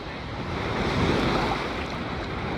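Ocean surf rushing and breaking along a Florida beach, a broad steady wash of water swelling briefly in the middle, mixed with wind buffeting the microphone, close and loud with no talk.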